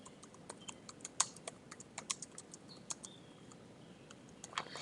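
Someone typing on a computer keyboard while entering a labor description, a quiet scattered run of light key clicks with brief pauses and no talking.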